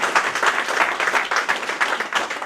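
Steady applause from a crowd at a BSNL retirement party, many hands clapping continuously and fairly loud throughout.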